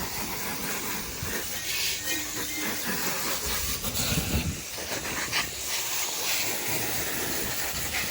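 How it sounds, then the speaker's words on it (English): A water hose sprays steadily, rinsing dust off a Harley-Davidson Street Glide before soaping, a continuous broad hissing wash with no talking. "I'm going to rinse all the dust off before I put soap."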